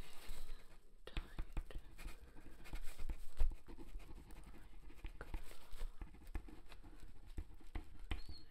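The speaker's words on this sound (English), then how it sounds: "Let's write that down." A pen scratches on paper in close, quiet strokes and small taps, soft irregular scribbling running throughout under faint whispered ambience.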